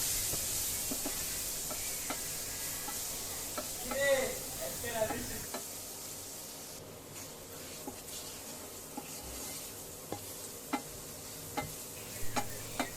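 Spice masala with chili powder frying in a pan, a faint, steady sizzle with a few scrapes and taps of a spoon, and a brief voice partway through.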